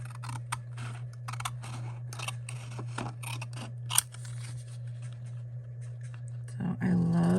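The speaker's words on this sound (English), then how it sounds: "I'm going to make straight cuts so that I could use this paper for other things as well" Scissors make repeated straight snips through patterned designer series paper while cutting an artist trading card, crisp and close in a quiet room over a steady low hum.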